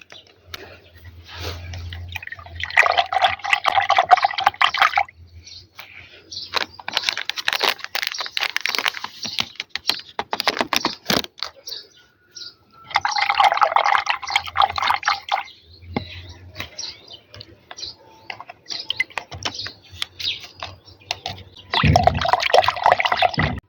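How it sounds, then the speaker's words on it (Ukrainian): Water pours in bursts into plastic buckets to dilute rose-spray preparations in a garden, loud splashing fills broken by quiet pauses and small drips. "друзі, розвожу ці препарати на 8 літрів води"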